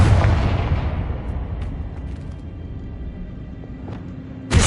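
A Confringo blasting spell in Hogwarts Legacy bursts with a loud explosive boom, then decays into a rumbling tail with faint crackles before a second sharp hit at the very end.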